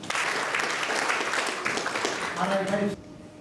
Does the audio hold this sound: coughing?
no